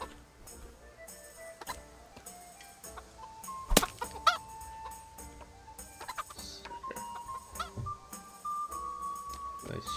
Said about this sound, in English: Nice chicken.